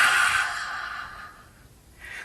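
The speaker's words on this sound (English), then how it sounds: "making a ha sound with your mouth open first, as if you were fogging up a mirror" An open-mouthed "ha" exhale in yoga breathing, like fogging a mirror: one soft, airy breath out that fades slowly, followed by a faint start of the next breath, close and alone.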